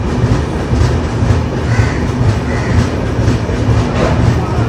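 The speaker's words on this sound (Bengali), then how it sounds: "আমাদের ট্রেন কিন্তু এসে পৌঁছালো আসানসোল" A passenger train with a pantry car rolling along rails toward Asansol, a loud continuous rumble with rhythmic clickety-clack heard from inside a coach, steady throughout with no talk.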